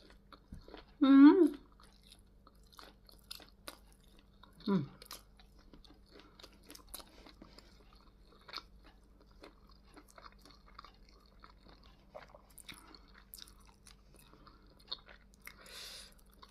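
Fried pork seasoned with fish sauce, eaten with sticky rice, chewed close up: soft, sparse crunches and wet mouth clicks scattered through a mostly quiet stretch, with a brief voice near the start.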